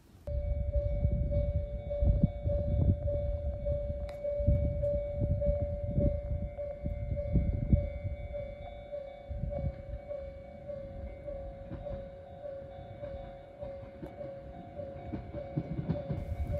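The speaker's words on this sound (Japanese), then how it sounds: "まもなく列車が参ります。" A train pulls into a small rural Japanese JR station with a low rumbling roll and wheel clatter, a sustained tone overhead, and the noise gradually easing as it slows.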